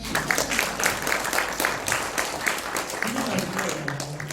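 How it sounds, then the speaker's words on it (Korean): Audience applause at a church revival meeting, a steady run of many hands clapping throughout, with a voice talking over it toward the end. "나한테 박수 치네."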